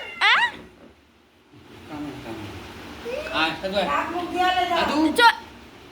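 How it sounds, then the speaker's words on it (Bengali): A cat gives one short, clear meow at the start, followed by a pause and then a person talking over quiet background noise. "ম্যাও ম্যাও করছে"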